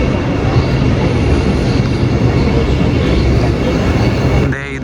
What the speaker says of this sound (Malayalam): ഇതാണ് നമ്മുടെ റാപ്പിഡ് റെയിൽ കേട്ടോ, നമോ ഭാരത്.